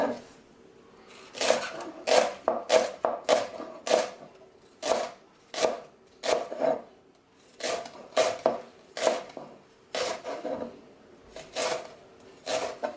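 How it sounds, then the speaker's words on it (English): A knife chops leeks on a cutting board for a vegan potato, leek and celery root soup. Crisp, close strikes come in quick clusters with brief gaps between runs, and no one talks. "I'm going to chop up the rest of the leeks"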